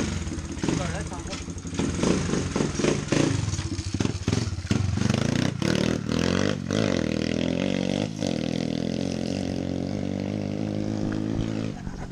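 A pit bike engine starts up close and revs hard, a loud, buzzy roar rising and falling in bursts before settling into a steady, rough drone.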